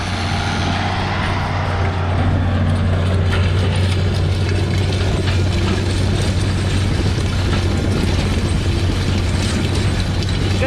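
An anhydrous ammonia applicator pulled through farm soil gives a loud, continuous mechanical rumble with rattling, clanking shanks and a steady low engine drone, no voices.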